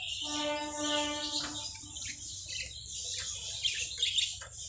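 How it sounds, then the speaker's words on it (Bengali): Pet budgies chirping in a cage: a bright harmonic call at the start, followed by busy, overlapping high twitters and chatter from several birds close by. "এগুলো সব জোড়া জোড়া পাখি"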